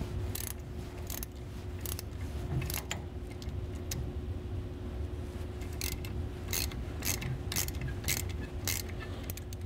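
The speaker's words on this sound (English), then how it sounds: "we'll take 17mm wrench on this particular clutch and loosen" A 17mm wrench loosens a nut on a Land Pride tractor implement slip clutch, giving a close, steady run of ratcheting metallic clicks in uneven bursts over a low background hum.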